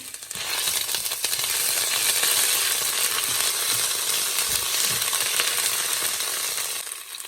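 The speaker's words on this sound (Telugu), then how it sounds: "అల్లం వెల్లుల్లి పేస్ట్ కూడా వేసి" Ginger garlic paste sizzles in butter with vegetables for a vegetable rice, a steady close frying hiss that carries on throughout with occasional faint clinks and stirring.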